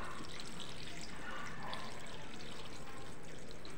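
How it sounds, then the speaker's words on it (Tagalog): Water pours steadily into a cooking pot of ginger sautéed in oil for Filipino chicken nilaga, a continuous close splashing, gurgling rush with no break throughout. "Lagyan natin ng tubig."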